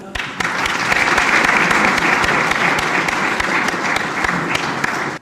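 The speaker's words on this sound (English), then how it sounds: "we welcome him for the next event with a warm round of applause" Loud, warm round of applause from an audience at an Engineers' Day event, welcoming a chief guest; dense, sustained clapping close by that runs throughout, then cuts off abruptly at the end.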